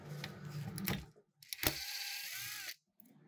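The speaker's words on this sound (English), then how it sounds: "Take your 3 millimeter hex driver and attach it to your Panasonic driver and reverse the grub screws." A Panasonic power driver fitted with a 3 mm hex bit backs grub screws out of an Endo ELF-15 spring balancer. Two short bursts of whirring motor with a rising and falling whine, close by and fairly quiet, separated by brief pauses.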